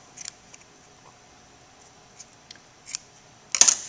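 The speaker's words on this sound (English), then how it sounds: "If you want, you can cut some of the string." Scissors snip the string on a dialysis bag: a few faint, sparse clicks and ticks followed by one sharper, louder cut near the end, close by with no speech.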